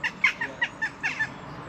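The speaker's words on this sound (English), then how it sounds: "we've got some bird accompaniment here" Birds call near Sheep Wash Bridge in Ashford, Derbyshire, beside old limestone cottages: a run of six or seven short, clucking, fowl-like calls at an uneven pace, clear and fairly close.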